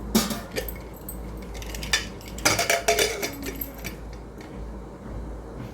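A metal whistle weight is fitted onto a pressure cooker lid in a home kitchen, giving a few close, sharp metallic clinks and rattles with brief scraping, no talking.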